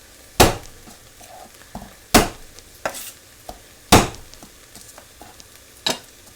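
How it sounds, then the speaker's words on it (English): Several sharp, loud knife whacks on garlic cloves against a cutting board, spaced irregularly with quieter mincing taps between them, close up with no talking. "There are a few things as satisfying as giving a clove of garlic a good whack"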